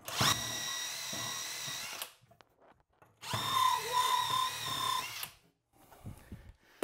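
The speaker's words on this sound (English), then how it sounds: "we're going to use this little sanding tool just to sand up our pipe" A small sanding tool whirs against a pipe in two bursts of about two seconds each, with a steady high whine, separated by a pause with faint handling noises.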